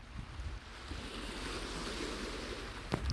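Sea waves rolling in a steady, broad wash of surf, fairly close and continuous, with wind buffeting the microphone and a brief thump near the end.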